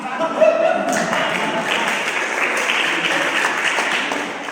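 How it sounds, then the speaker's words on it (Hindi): Audience applause at a Hindi poetry recital (kavi sammelan), steady clapping throughout with a faint voice or tone briefly audible early on and a slight lift in intensity partway through. "आपकी तालियां चाहिए साहब"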